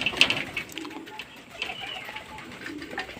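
A pet pigeon coos softly near a food spot, with low, murmuring calls over faint background noise and a brief sharper sound at the start.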